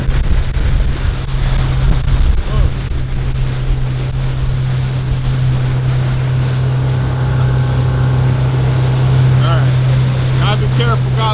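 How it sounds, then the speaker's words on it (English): Ocean water splashes and rushes against a moving boat on its maiden voyage, mixed with a steady engine drone and gusty wind buffeting the microphone, while someone talks over it. "Careful, got a little splash going"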